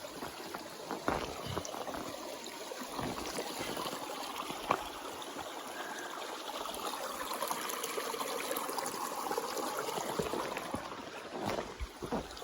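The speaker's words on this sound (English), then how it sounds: "A lot of water coming through here." Stream water rushing over rocks along the Appalachian Trail, a steady broad wash of flowing water filling the whole stretch at moderate level with no talk.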